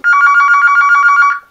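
A Huawei Honor 6X smartphone plays its ringtone: a bright, steady trilling ring with a rapid pulsing warble, loud and close, running for over a second before cutting off.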